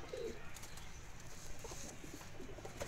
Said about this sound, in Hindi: ये सर कमागर कबूतर है।